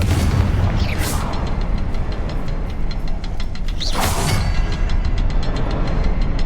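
Confringo fire spell blasting in the Hogwarts Legacy video game, two loud booming explosions with crackling bursts about three seconds apart over a continuous rumbling game soundscape.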